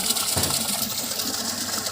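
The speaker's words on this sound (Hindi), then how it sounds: "तो माता जी ताज़ा पानी भर रही है" Fresh water pouring steadily into a drum in a village courtyard, a continuous broadband splashing gush that stays even and fairly close throughout, with no talk over it.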